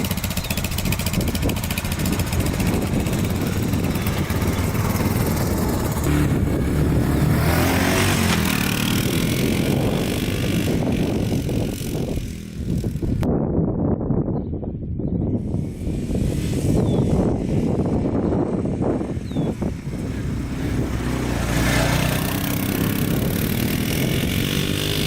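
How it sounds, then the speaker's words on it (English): Honda Fourtrax 4x4 350cc ATV engine running steadily for the whole stretch, a continuous low rumble heavily mixed with wind buffeting on the microphone, with a brief quieter lull partway through. "first ride ever on the Honda Fourtrax 4x4 350cc"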